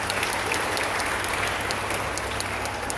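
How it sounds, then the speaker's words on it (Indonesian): A congregation claps for a church choir at a parish anniversary Mass in Cijantung, producing dense, even applause that holds steady for a few seconds. "Kita tepuk tangan, ya."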